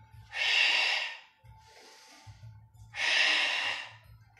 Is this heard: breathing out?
yes